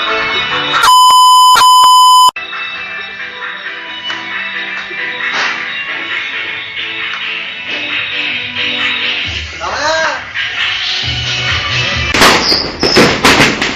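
New Year's firecrackers and fireworks cracking and popping in dense, continuous volleys, loud and close, with a sharp electronic beeping tone near the start and sharper bursts toward the end.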